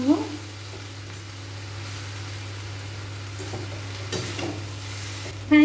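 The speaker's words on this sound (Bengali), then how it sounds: "এরপর নাড়াচাড়া করে নেব।" Vegetable fried rice sizzles softly in a pan while a spoon stirs it with a few scraping strokes, and a brief voice sounds at the start and end.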